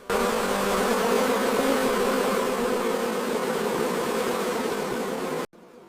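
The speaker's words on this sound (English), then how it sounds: "the bees are busy inside their hives producing honey" Honey bees swarm and buzz at their hives on a honey farm, a dense steady drone close by and loud, continuing without a break until it cuts off abruptly near the end.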